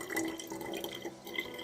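Water poured into a container for a caustic soda chemistry experiment, a faint, steady trickle and splash with small drips, heard alone without talk.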